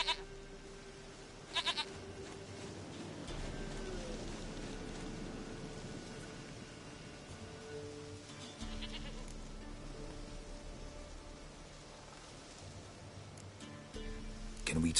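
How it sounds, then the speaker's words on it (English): A goat bleats repeatedly in The Witcher 3, several separate calls spaced across a quiet, faintly hissing background. "Goat of mine, dearest, sweetest goat."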